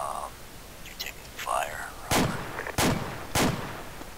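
Gunfire in the military video game ArmA 2: three sharp, loud shots spaced about half a second apart, following soft radio-like chatter and faint talk.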